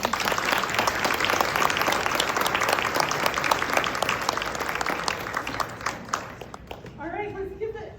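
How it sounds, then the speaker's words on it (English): A crowd at a Lindon/South Pleasant Grove school board candidate Q&A gives sustained, dense applause that holds steady and then thins out to a few scattered claps near the end. "let's give a huge another clap to all the candidates"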